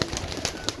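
A pigeon coos softly in short, faint repeated notes, a brief quiet call set against light background noise.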